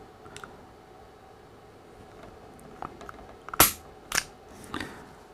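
A Calwestco J22 pistol being dry-fired with its slide pulled slightly back: a couple of sharp, close metallic clicks and snaps stand out against a quiet background, with no talk.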